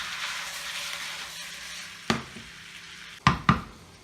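Red wine hits browning mince with a stock cube in a pan for lasagne, giving a broad steady sizzle that slowly fades, followed by a few sharp clinks of utensil against pan.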